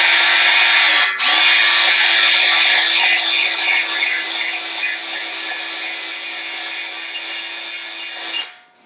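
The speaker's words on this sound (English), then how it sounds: "I'm going to stick a little brake hone in here and just give it just enough to kind of smooth off the high spots" Small brake hone spinning inside a corroded bore on Engine 28 gives a steady high, whirring grind that runs almost continuously, with one brief dip early before winding down at the end.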